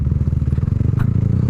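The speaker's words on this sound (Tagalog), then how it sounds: "Kasi karaniwan pag narinig nila yung tunog ng motor ko," A motorcycle engine idles and runs steadily nearby, a dense low rumble with a rapid pulsing beat, on a residential street with speed humps.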